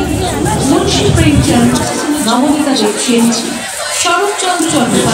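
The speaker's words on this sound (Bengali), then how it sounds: "দেজ পাবলিশিং কিন্তু বেশ ভালোই ভিড় রয়েছে এই স্টলটাতে।" A crowd gathers at a busy publisher's stall at the 2024 Kolkata Book Fair, producing a steady, close babble of overlapping voices and chatter that continues for the whole stretch.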